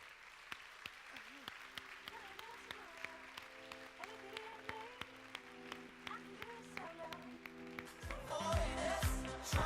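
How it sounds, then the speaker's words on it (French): Steady applause from an audience over musical backing, with sharp claps throughout, swelling louder near the end. "Et vous les mesdames, applaudissez messieurs. très fort."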